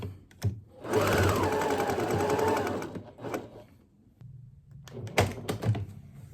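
A sewing machine runs a close, loud burst of stitching around a fabric Baby Yoda mask, then stops, followed by clicks and handling thumps as the fabric is moved.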